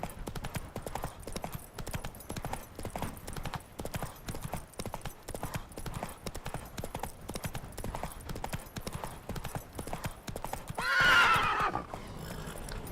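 A horse trotting in The Witcher 3 video game, rapid steady clip-clop of hooves throughout, close and even, with a brief neigh near the end and faint background game sounds.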